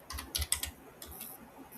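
Keys on a computer keyboard click in a quick, irregular burst of taps, close and fairly quiet, with no voices.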